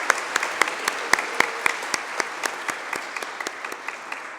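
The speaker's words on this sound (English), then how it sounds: "So I just want to give them another round of applause, please" Audience applause for student helpers at an event, with steady rhythmic claps from a modest crowd, the individual sharp hand strikes distinct and evenly paced throughout with no voices over them.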